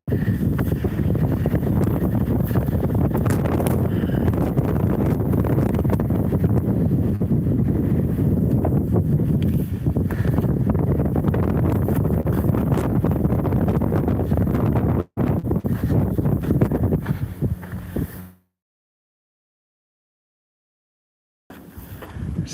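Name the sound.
wind blowing on a rocky Hawaii hiking trail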